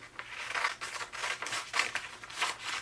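Scissors snip through fabric folded for a romper-to-overalls bib, a steady run of crisp, close cuts repeating about twice a second with faint crinkling between strokes.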